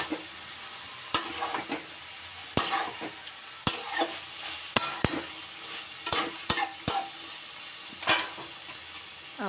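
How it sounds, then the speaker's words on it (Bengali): Prawn curry with sugar being stir-fried in a pan: a steady sizzle broken by sharp, irregular clacks and scrapes of the spatula, fairly close. "চিনি দিয়ে ভালো করে এবার কষে নিচ্ছি।"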